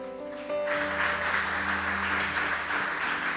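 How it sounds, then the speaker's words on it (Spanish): Applause breaks out after a sustained musical tone fades, a dense steady wash of clapping from a church congregation that continues to the end. "Denle un fuerte aplauso al Señor."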